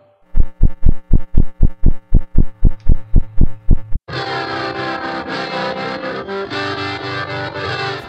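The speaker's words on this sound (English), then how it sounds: "And now we have the magnetic pick." Electric guitar worked with a magnetic pick through heavy distortion: a steady pulsing, throbbing pattern of repeated chugs, then a sudden wall of sustained, saturated droning tone that stays loud to the end.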